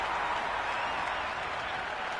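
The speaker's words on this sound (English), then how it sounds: "The crowd are loving every minute of this match." A game crowd in Cricket 26 applauds a boundary with a broad, even wash of clapping and cheering that holds steady throughout, with no distinct voices over it.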